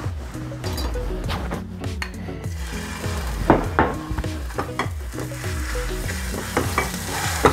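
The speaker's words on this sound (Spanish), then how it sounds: "Lo primero que puse en el sartén es aceite. Aquí voy a freír el chorizo." Chorizo fries in oil in a skillet, a crackling sizzle broken by repeated rhythmic scraping and knocking of a utensil against the pan, close and clear.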